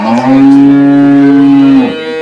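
A dairy cow at a cattle farm lets out one long, loud, steady moo close by, holding it for nearly two seconds before trailing off, with no talking.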